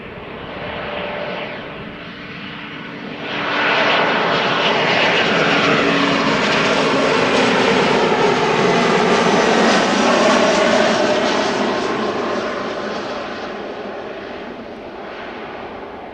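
An SAS Link Embraer 195 long-range jet, fifteen years old, arrives at Amsterdam Schiphol from Copenhagen, its engine roar swelling from a distant rumble to a loud, broad sustained wash before slowly fading.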